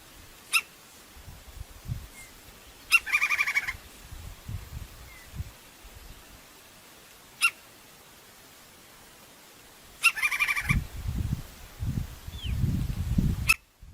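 A crimson-crested woodpecker calls in the open, giving a few short separate notes and brief rapid bursts spaced out over time, with soft rustling and faint background hiss in between.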